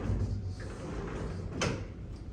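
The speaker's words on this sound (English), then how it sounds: "with a sliding door." A bathroom sliding door in a Superior hotel room at One World Hotel, Petaling Jaya, Malaysia rumbles along its track, ending in a brief sharp knock as it stops, heard close with no talking.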